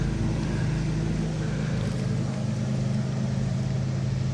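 A restored 1966 Chevelle SS with a 396 V8, cam and roughly 400 hp, idling close by with a deep, continuous rumble that stays steady throughout.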